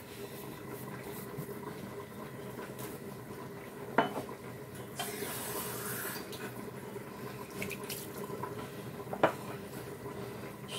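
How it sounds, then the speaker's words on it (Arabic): Water is poured into steamed Moroccan couscous in a kitchen, with a soft rush of liquid amid light clinks of pots and utensils, close and fairly quiet. "هنايا كيف ما قلت لكم عطيو الماء، ما تخافوش منو"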